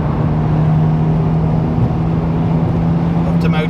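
Steady, humming engine drone from a classic Mercedes accelerating up to motorway speed during a road run near Silverstone, heard from inside the car as a constant cabin rumble.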